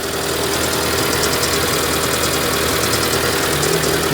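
A Proton Satria car engine idles on its first cold start of the day with the airbox off, a steady, close, continuous running drone with a slightly rough, struggling edge and no pauses.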